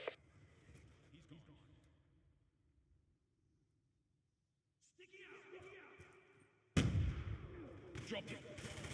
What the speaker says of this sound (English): Hellstorm missile inbound